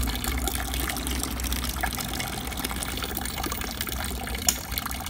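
Water pours steadily into a container while float switches are tested, a constant rushing, splashing stream with no pauses and a small knock near the end.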